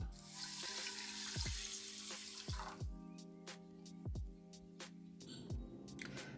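Water runs steadily from a tap for a few seconds, then is poured into a kitchen pot, followed by quieter splashes and clinks of the cup and pot; no voices.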